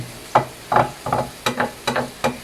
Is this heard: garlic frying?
yes